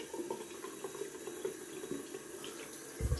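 Tap water runs steadily while a large 27mm shaving brush is rinsed under it, a soft continuous splashing with a brief louder burst near the end.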